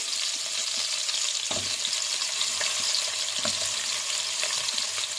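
Carrots go into a pan of browning onions, giving a loud, continuous oily sizzle with a couple of soft thuds from stirring or pieces landing, heard up close.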